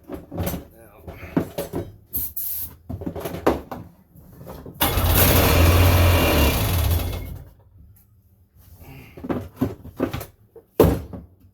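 A choked 1999 Sea-Doo GTI jet ski engine catches and runs with a rough, steady roar for a couple of seconds before dying, with someone talking nearby before and after.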